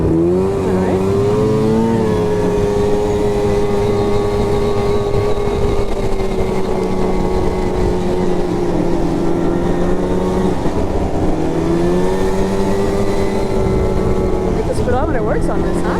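A snowmobile sled rides along a New Hampshire snow trail, its engine a loud, steady droning whine that rises and falls in pitch throughout, close and continuous.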